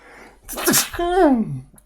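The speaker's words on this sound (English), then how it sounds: "It makes me sneeze." A single sharp sneeze bursts out, followed by a drawn-out falling vocal groan, close and loud.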